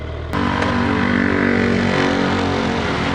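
A Suzuki Hayabusa motorcycle engine idles, then rises to a steady, even drone as the bike pulls away smoothly, loud and close with no voices.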